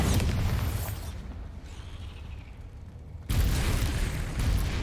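The Bombarda spell in the Hogwarts Legacy video game sets off a loud, deep explosion. It booms with heavy low rumble, fades into a quieter decay, then bursts again sharply near the end.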